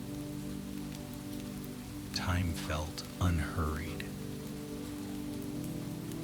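Gentle, steady rain falls on surfaces on a rainy Asheville night, a constant soft hiss of drops throughout, while a calm voice speaks briefly over it.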